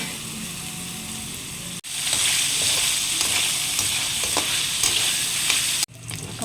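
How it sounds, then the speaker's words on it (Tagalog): Meat for string-bean adobo fries in its own rendered fat while being stirred, a loud, continuous sizzle with spatula scrapes, broken by two brief cuts in the sound. "Haluin natin at palalabasin natin yung mantika."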